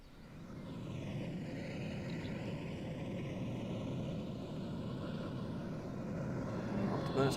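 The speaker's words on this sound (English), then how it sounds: "Afterburners coming on" A Su-27 jet at an air show roars steadily with afterburners engaged, a loud continuous broadband rumble that holds level throughout and swells slightly near the end, with faint voices underneath.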